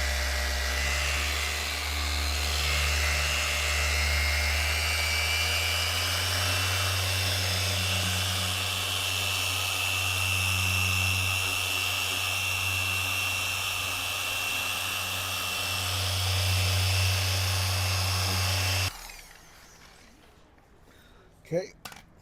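A high-speed rotary buffer polishing a 2008 Mercedes SL 500 whines steadily and loudly for about nineteen seconds, then cuts off, leaving a few faint clicks.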